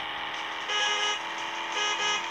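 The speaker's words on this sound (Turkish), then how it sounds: "Kornayı çok gerçekçi yapmışlar." A video game car horn honks in two bright blasts, loud and close, against a steady buzzing background with no speech.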